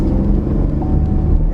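A 2019 Chevy Blazer RS with a V6 engine and front-wheel drive accelerating, heard from inside as a loud, steady low rumble and engine drone.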